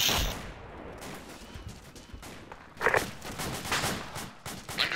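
Gunfire in a military shooter game set during a battle at Wanat cracks out in scattered bursts, some shots sharp and close, others more distant, over ongoing rumbling background noise.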